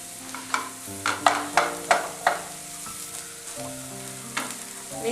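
Shredded chicken frying in a spiced masala in an Erachi Pathiri recipe, with steady sizzling and a run of sharp spatula scrapes and stirs that fade into a quieter sizzle, close and alone with no voices.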